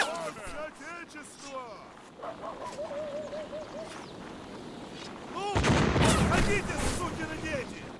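A volley of booming cannon shots erupts amid video game sound effects during a siege, building into a dense burst of blasts while people talk over it.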